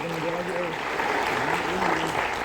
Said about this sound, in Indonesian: Tepuk tangan dong untuk Abi dan aku.